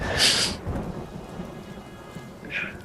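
A thunderstorm sound effect plays during a D&D tabletop session: short loud thunder crashes open and close the moment over steady rain hiss, with no voices.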